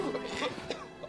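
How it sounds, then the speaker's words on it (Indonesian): A short burst of harsh coughing, close and fairly quiet, a few rough hacks in quick succession. "tiba-tiba batuk berdarah-darah"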